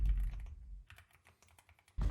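Typing on a Yunzii AL66 mechanical keyboard with a fully aluminum case, a close run of quick keystrokes with a heavier burst at the start and another at the end, heard alone.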